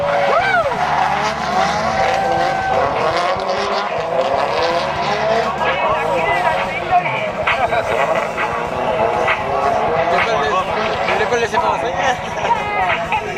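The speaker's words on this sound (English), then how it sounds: "We have a turbocharged Corolla versus an F13. This is their warm-up lap." A turbocharged Corolla and an F13 drift car roar through a warm-up lap at a D1 GP drift exhibition in Englishtown, New Jersey, engines revving and whining with tire noise while a commentator talks over them.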